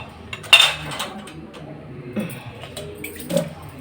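A vessel basin is picked up and handled in a home kitchen, giving a few light metallic clinks and knocks spread over several seconds, fairly close and quiet, with no voices.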